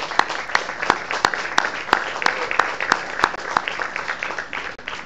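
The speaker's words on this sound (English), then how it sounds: "Let's give a big applause." An audience at a cryptocurrency research conference applauds, a steady patter of many hands with a few sharp, prominent nearby claps in a regular rhythm, continuing for several seconds.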